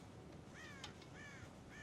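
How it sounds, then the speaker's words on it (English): Crows caw in the Red Dead Redemption video game around a farm silo full of corn: three distinct harsh calls spaced roughly half a second apart, fairly faint over quiet background ambience. "God damn crows!"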